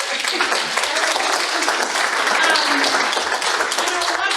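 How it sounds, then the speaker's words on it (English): A conference audience at a farmers' organizing event claps loudly and steadily throughout, a dense wash of hand claps close by with no break. "let's give a clap"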